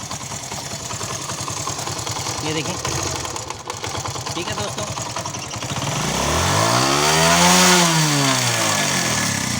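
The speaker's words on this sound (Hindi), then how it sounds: "अब मैं स्टार्ट करता हूँ, और ये मेरा मोटरसाइकिल इस टाइम स्टार्ट हो चुका है" A Honda CD 70 motorcycle engine, started without a key, idles with a steady, putting rumble, then passing traffic sweeps by loudly; someone talks over it.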